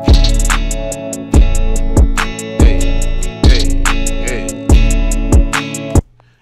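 A trap track with live-played guitar rolls through punchy, booming kicks and crisp percussion under sustained melodic tones, loud and close in a steady bouncing rhythm, then cuts off abruptly near the end.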